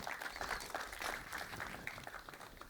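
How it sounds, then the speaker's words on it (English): Conference audience at a talk on the Bundesbank's DLT trigger solution applauds steadily, a dense, faint wash of many hands clapping throughout with no voices over it. "So big applause, please."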